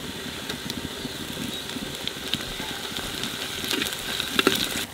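Ginger-garlic paste sizzles steadily in a hot pan of oil, a continuous close frying hiss with small crackles and a few brighter pops near the end, cooking raw jackfruit curry.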